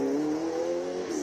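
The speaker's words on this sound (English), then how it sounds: "if you can hear the awesome cars that are launching out here at the start line through this microphone" A purpose-built race car launches from the hill climb start line at Killarney Raceway in Cape Town, its loud, close engine holding a steady high-revving drone.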